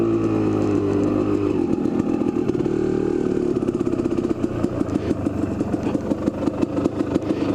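A Kawasaki KDX250 dirt bike engine runs steadily nearby, first a smooth low idle, then a rougher, choppier rhythm of rapid pulsing put-puts.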